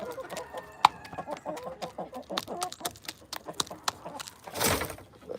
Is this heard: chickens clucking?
yes